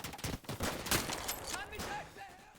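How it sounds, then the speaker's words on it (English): Machine gun fire rattles in the World War II shooter Day of Infamy, a dense run of rapid shots at moderate distance that fades into scattered noise, with a voice speaking faintly underneath. "Da ist ein MG!"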